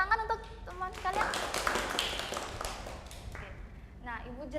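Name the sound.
students clapping for classmates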